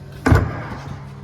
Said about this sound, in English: Popping these seats up.